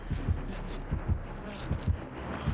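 Heartbeat terror-radius sound from the mobile horror game Dead by Daylight Mobile, a steady thumping pulse of low beats repeating roughly every 0.4 seconds, loud and rhythmic over a faint hum.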